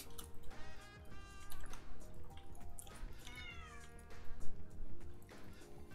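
A kitten meows repeatedly and clearly up close, several drawn-out cries in a row over quiet background sounds.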